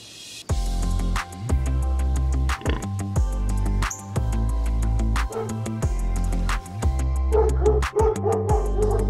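Dogs bark loudly and repeatedly in quick bursts, with yips mixed in, close by and continuous throughout.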